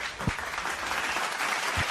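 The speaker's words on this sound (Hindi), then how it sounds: "जोरदार ताली हो जाए" Audience applause for a boy's performance at an Independence Day comedy show, a dense sustained round of clapping from a crowd with a couple of low thumps.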